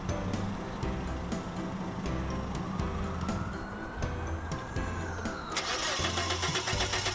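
A car engine cranks and starts in a lab test of an Arduino-based anti-theft system, settling into a steady mid-pitched idle with a rising whine and a brighter burst of noise near the end; no voices.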